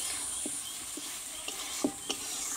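Spice paste for a Bengali vegetarian ridge gourd curry is stir-fried in a pan, with a soft continuous sizzle and a few brief scraping stirs, close and fairly quiet, with no voices.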